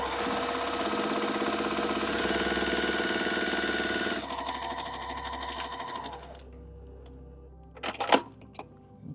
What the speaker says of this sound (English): now we're going to sew down both sides of that line